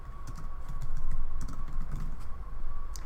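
Close, rapid clicking of a computer keyboard, irregular bursts of keystrokes over a low background hum, with no talking.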